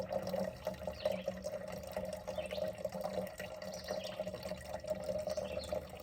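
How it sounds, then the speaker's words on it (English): Water pours steadily into a 48-ounce measuring cup, filled to about 16 ounces for a couple of cups of coffee. The stream is a faint, continuous trickle with no voices over it. "And we'll put enough water in here for a couple cups of coffee."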